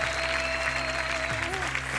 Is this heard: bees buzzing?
no